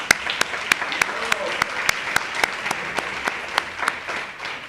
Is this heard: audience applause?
yes